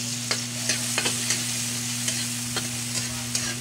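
Garlic sizzling steadily in a hot pan as a base for pork belly adobo with annatto, with repeated scraping clicks from stirring and a constant low hum underneath.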